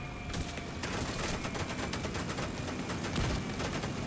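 Guns fire continuously on the right side, a dense rattling fusillade of rapid shots that keeps a steady loudness throughout, with no voices over it.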